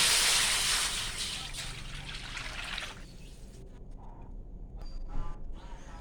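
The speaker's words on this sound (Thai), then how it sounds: "ยายก็เอาน้ำลง" Water pours steadily into a pot for about three seconds, then tapers to trickles and small clinks.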